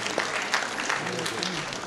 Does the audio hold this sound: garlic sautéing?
no